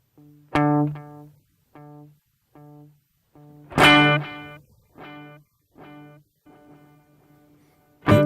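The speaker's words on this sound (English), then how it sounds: "Long tape loop." A guitar run through the long tape loop echo mode of the Q Show Elevate pedal, with plucked notes and a loud strummed chord each answered by spaced, gradually fading repeats in a slow rhythmic pattern.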